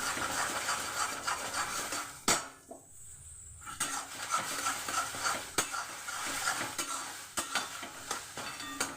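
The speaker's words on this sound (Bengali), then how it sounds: "এইভাবেই নাড়াচাড়া করে আমি ডিমটাকে ভাজা করে নেব।" Egg being stirred and fried in a pan for an egg tadka dinner, a soft sizzle under repeated scraping and clinking strokes of a spatula against the pan, with a brief quiet pause partway through.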